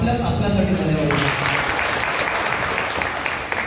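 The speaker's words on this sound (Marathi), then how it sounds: "एकदा खरंच जोरदार टाळ्या आपल्याच आपल्यासाठी झाल्या पाहिजे" A gathering of Jhadipatti folk theatre artists bursts into loud, dense applause that swells and holds steady, following a brief stretch of speech at the start.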